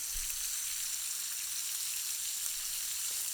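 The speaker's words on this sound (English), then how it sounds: "since I got a nice lot of bubbling, I'm actually even going to turn my pot down a little bit lower" Bacon fries in a cast iron pot with leftover grease, giving a steady, close hiss of bubbling fat with fine crackles throughout and no voices.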